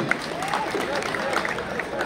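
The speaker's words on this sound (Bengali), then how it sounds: "সবাইকে তানভীরের জন্য একটু জোরে করতালি।" Audience applauding at a school batch reunion and jubilee celebration, a steady wash of clapping from a crowd with voices mixed in throughout.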